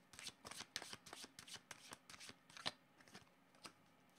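Tarot cards are shuffled by hand in a quiet room, making a soft, close series of riffling flicks and slaps in an uneven rhythm, faint and without talk.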